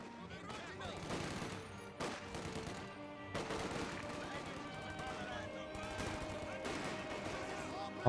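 Rifle squad gunfire in a Company of Heroes 2 battle around a garrisoned building: scattered rifle shots and bursts of battle noise beneath a commentator talking steadily.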